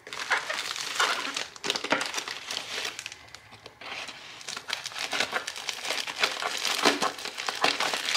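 A mailed package is cut open up close, with dense crinkling and crumpling of plastic or paper wrapping that comes in bursts and briefly quiets midway.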